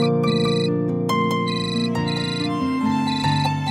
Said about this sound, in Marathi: हा फोन अटेंड करूया